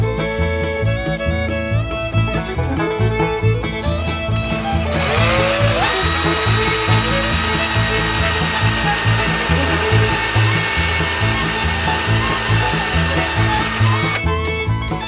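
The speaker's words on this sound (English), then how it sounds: "Then he marked the centers and drilled each one." A power drill bores small holes through wooden Jenga blocks. The motor whines continuously for about fifteen seconds, loud and close, and a harsher cutting tone rises in the middle stretch as the bit bites into the wood.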